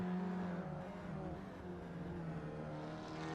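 Race cars roar through the start-finish straight in a sim racing game, a dense, sustained engine drone with rising and falling pitch as the cars speed past, loud and continuous throughout.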